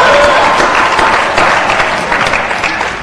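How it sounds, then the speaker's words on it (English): A large audience bursts into loud applause at a Harvard commencement, dense sustained clapping that tapers a little toward the end. "give yourself a nice round of applause"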